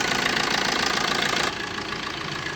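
A 2016 Maruti Suzuki Swift Dzire engine runs at a steady idle, close and even, with a fine rhythmic chatter that softens slightly partway through.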